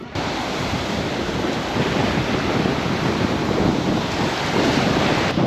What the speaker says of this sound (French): je sais pas si vous m'entendez parce qu'il y a du vent de ouf